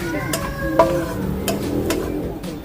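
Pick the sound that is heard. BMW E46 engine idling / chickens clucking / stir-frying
stir-frying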